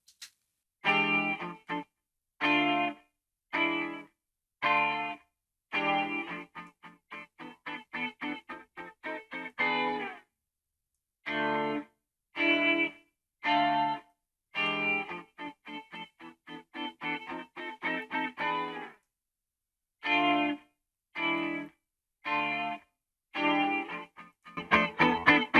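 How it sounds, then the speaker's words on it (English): Bursts of heavily processed electric guitar chords, isolated to only what the Sonible smart:comp compressor is affecting, come in choppy, rhythmic stabs separated by short silences, sounding squashed and effected, with no voices. "So we're only listening to what the compressor is affecting."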